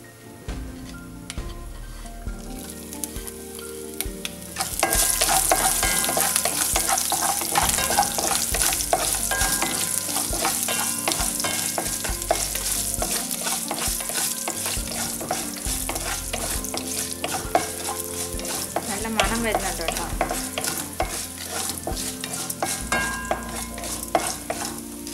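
Ginger hits hot oil with fried urad dal in a pan for vermicelli upma, bursting into a loud continuous sizzle with brisk, close spoon stirring and scraping after a quieter opening.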